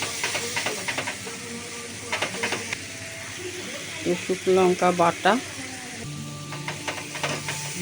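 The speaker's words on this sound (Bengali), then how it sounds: "রসুন আর লঙ্কাটা একটু ভাজা ভাজা হলে" Onion, garlic and dried chili fry in a pan, a steady sizzling hiss broken by clattering utensil sounds, while a person talks.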